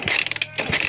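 Motorcycle kick starter kicked on a bike that will not start: a fast mechanical ratcheting clatter of several clicks, close and fairly loud, with no speech.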